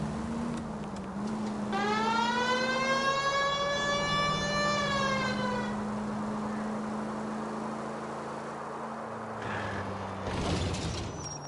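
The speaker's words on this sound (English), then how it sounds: "I feel more comfortable with the siren on." A police car siren in the video game L.A. Noire wails in a rising and falling tone over a steady engine hum, fading out partway through, with no talking.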